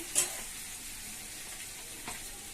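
Tomato pieces frying in a pan make a soft, continuous sizzle with a couple of brief stirring scrapes, close and fairly quiet, with no voices.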